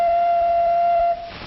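A single steady ocarina note, clear and pure with faint overtones, sustained about a second before cutting off abruptly; recorded on an old film soundtrack with background hiss.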